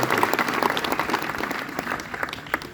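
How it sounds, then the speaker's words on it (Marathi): An audience applauds teachers at a student felicitation ceremony, a dense, steady burst of clapping from a crowd that holds fairly evenly and loud throughout. "आपण सगळेजण टाळ्या वाजवून त्या शिक्षकांचं अभिनंदन करतो"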